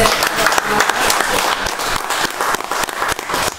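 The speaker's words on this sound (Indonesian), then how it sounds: "Kita beri tepuk tangan dulu dong." A studio audience bursts into loud, dense applause, many hands clapping close and sustained with occasional sharper claps standing out.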